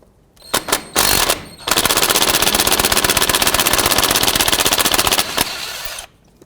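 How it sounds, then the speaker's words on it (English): A power tool with a 10mm socket rattles out the bolt that holds a bracket on during a front brake job on a 1999-2007 GMC Sierra. A few short hits come first, then a loud, steady hammering run that lasts about four seconds. "with a 10mm socket, remove this bolt that holds the bracket on"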